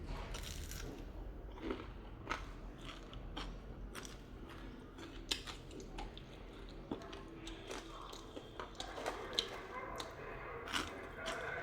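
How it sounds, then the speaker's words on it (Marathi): Crisp bites into fried mandeli fish, a Konkani-style fry, give a series of sharp crunches and chewing crackles close to the mic, spaced irregularly over a quiet background. "आवाज ऐकूच शकता ते किती कुरकुरीत आवाज होतो"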